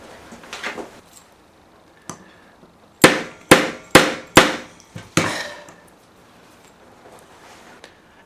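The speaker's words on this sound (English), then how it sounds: "we secure it by hitting it with a nail just to force the aluminium into the wood" A hammer drives a nail through aluminium into wood outdoors: a few light taps, then five loud, sharp, evenly spaced blows ringing close by, followed by softer knocks.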